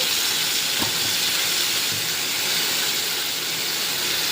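Vegetables frying in a pan just after being added with rock salt, giving a steady close-up hiss and sizzle that holds evenly throughout, with no talk.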